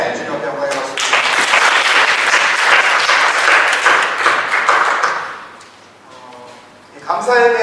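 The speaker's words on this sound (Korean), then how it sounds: "주님 앞에 영광의 박수" Church congregation applauding during a worship service, a loud sustained burst of many people clapping that swells, then fades out, with a voice speaking at the end.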